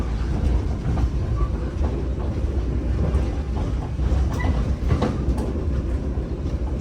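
The KA Pandalungan train running on old rails between Pasuruan and Bangil, heard from inside the carriage as a steady rumbling roar with faint rattles and clicks throughout, fairly loud and continuous, with no voices.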